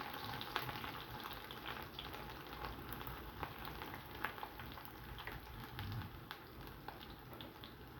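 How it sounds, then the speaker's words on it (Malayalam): Mustard seeds, ginger and garlic frying in hot sesame oil for a dates pickle produce a dense, steady crackling sizzle with scattered tiny pops, close and even throughout. "നല്ലെണ്ണ നന്നായിട്ട് ചൂടായി വന്നിട്ടുണ്ട് നമുക്ക് ഒരല്പം കടുക് ഇട്ട് കൊടുക്കാം"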